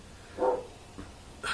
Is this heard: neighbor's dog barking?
yes